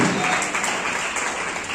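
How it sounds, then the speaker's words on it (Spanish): A church congregation applauds in a thick, continuous wash of clapping that holds steady through the short stretch. "Denle un aplauso al Señor"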